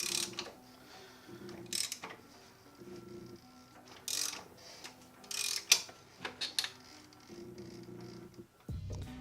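A ratchet turns the crank bolt to rotate a Subaru EJ207 engine, giving bursts of close mechanical clicking separated by short pauses and faint clanks of tools.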